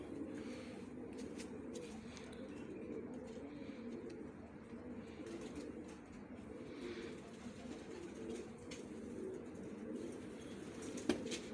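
Pigeons cooing in a steady low murmur, close by and continuous across the whole stretch, with faint shuffling and a quiet voice in the background.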